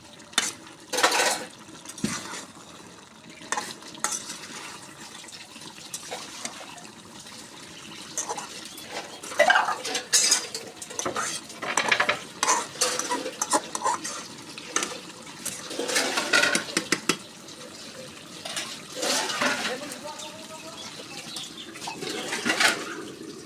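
Duck meat and potatoes stir-fried in a pan, with a spatula scraping and clattering against the pan in irregular bursts over a soft sizzle, close up and without talk.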